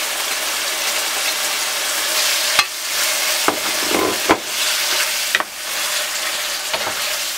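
Thin-sliced chicken with onion, salt and green chili fries and is stirred in a pan, making a steady, close sizzle. Sharp spatula knocks against the pan punctuate it several times.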